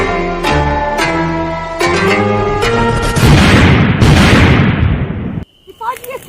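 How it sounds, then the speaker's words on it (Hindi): A loud explosion erupts with a long roaring blast after a few sharp hits, then cuts off abruptly, leaving faint scattered sounds. "ये तो विस्फोटवा होई गवा"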